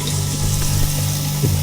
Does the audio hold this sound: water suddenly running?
yes